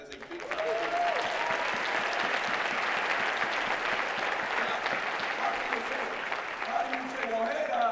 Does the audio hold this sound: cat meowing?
no